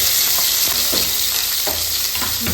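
Onions and ginger-garlic paste frying in oil in a pan give a loud, continuous sizzle with a few stirring scrapes, close and steady, with no voices.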